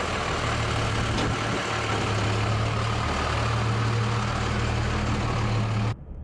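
A Ram 2500 pickup with a Cummins diesel engine and over a million miles drives along, its low, steady diesel drone and road rumble filling the cab without a break until an abrupt drop at the end.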